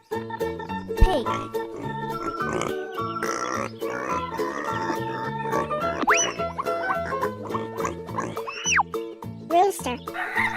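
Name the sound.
pig oinking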